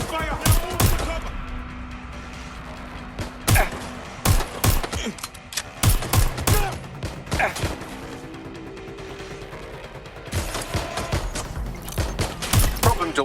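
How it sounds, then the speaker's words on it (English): Gunfire in Watch Dogs Legion, sharp loud shots in clustered bursts with rapid volleys and gaps between, mixed with impacts and game sounds. "They must shoot! Taking fire!"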